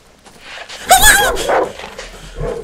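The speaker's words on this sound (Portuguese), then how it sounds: "Cachorro!" A dog barks and yelps in a short burst in the video game Darkwood, sounding slightly processed, with faint background noise before and after.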